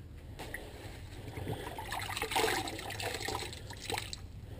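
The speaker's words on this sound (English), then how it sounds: "dipping it in the rinse bucket, and then coming over here, cleaning up the area" A large sponge is dipped and sloshed in a rinse bucket of water while cleaning up after plaster mixing, producing a steady close wash of splashing and trickling with a few louder swishes midway.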